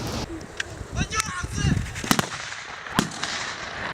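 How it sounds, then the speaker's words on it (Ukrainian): Several sharp rifle shots crack at irregular intervals, echoing briefly through mountains during a UPA battle reenactment, with distant voices and outdoor noise between them. "Гучні постріли рушниці відлунням віддають у горах."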